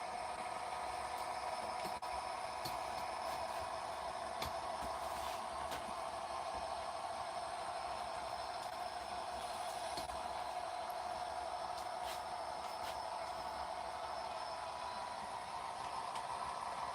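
Model trains run and switch on a layout, making a steady, faint mechanical hum and rumble with occasional light clicks and rattles throughout, with no talking.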